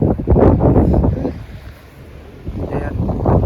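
Strong wind blasting during a snowstorm on a roadside with vehicles around, heavy gusty rumble buffeting close by, easing briefly in the middle before surging back.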